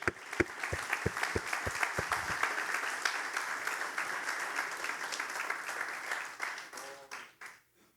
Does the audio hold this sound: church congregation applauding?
yes